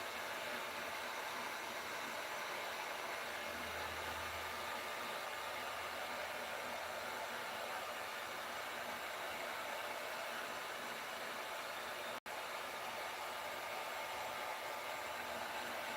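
A heat gun blows a steady, loud, unbroken airy hiss for the whole stretch while heating the vinyl seat cover of a 1974 Ford F-100, with no talking over it.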